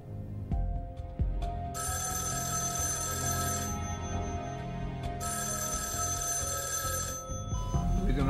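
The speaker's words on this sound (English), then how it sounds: "Someone pick up the damn phone." A telephone rings repeatedly over a busy hospital emergency scene, its bright electronic bursts sounding twice in long, loud rings against a steady background din.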